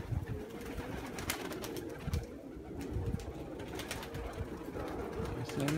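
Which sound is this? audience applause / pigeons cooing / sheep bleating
pigeons cooing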